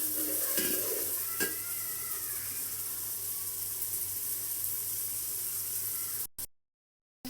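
Spice paste stir-fries in a pan, with a continuous close sizzle and the rasp of stirring that runs steadily, then cuts off abruptly near the end.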